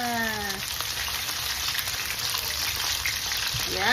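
Leftovers frying in a generous amount of hot oil, a steady close crackling sizzle throughout, with brief tonal sounds at the start and end over the frying.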